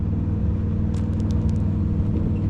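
Cars at the Duct Tape Drags in Tucson, Arizona, producing a steady low engine rumble throughout with a few faint higher hisses, as if idling or rolling by at a drag strip, with no talk.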